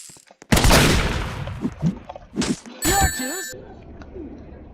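Gunfire in the video game K.A.T., a loud burst of shots with metallic pings and ringing clangs, followed by quieter game sounds as someone shouts excitedly over it.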